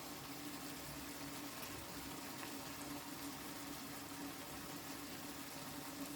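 A pot of callaloo and saltfish with thyme simmering, a steady, faint bubbling hiss with a low continuous hum, no talk.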